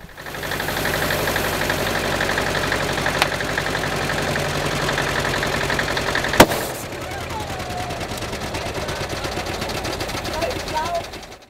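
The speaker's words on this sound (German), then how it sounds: "So nimmt er das Angebot der Helfer vor Ort gern an, den Reifen mittels Traktor aufzupumpen." At a mountain-bike marathon in Biesenrode, a tractor engine idles with a rapid, rhythmic knocking chug while pumping up a bike tyre. It runs loud and close, then shifts to a slightly quieter, lower note after a sharp click partway through.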